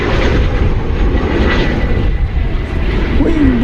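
A large airliner arriving from Doha at DFW Airport roars loudly and steadily as a nearby broadband engine rumble, heard from a plane-spotting spot with no talk.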